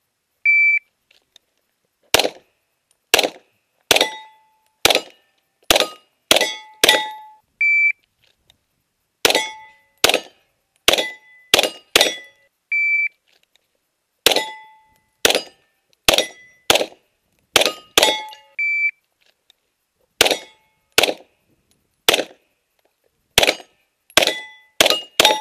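Rapid pistol shots ring out on five steel plates with a central stop plate in a Steel Challenge stage, coming in quick bursts of sharp metallic clangs with short pauses between strings, and faint beeps from a shot timer.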